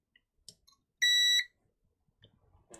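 While a PS2 console is being repaired, testing one of its pins sets off a single short, clear electronic beep lasting under half a second, surrounded by faint clicks and near silence.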